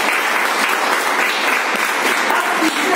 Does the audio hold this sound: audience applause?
yes